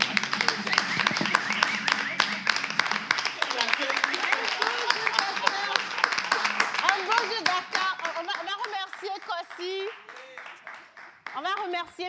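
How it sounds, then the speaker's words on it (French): An audience claps and applauds two actors at a live show, a dense crowd clapping for the first few seconds before voices take over and talk continues over the fading applause. "je veux qu'on applaudisse ces deux acteurs que nous avons"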